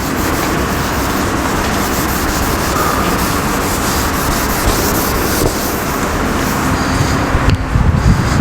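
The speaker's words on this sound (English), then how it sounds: "So I would like to rub this part." Chalk being rubbed out on a board during a lesson: a loud, continuous coarse scrubbing that goes on without pause and ends with a few scuffs.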